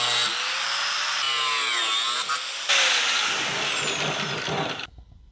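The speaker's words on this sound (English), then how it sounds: "Since I'm reusing carriage bolts from a past project, I'll need to trim these down to size." Power tool cutting down reused metal carriage bolts for a DIY mobile kitchen island build: a loud, continuous high-pitched grinding whine for about five seconds, briefly dipping once mid-cut, then stopping abruptly.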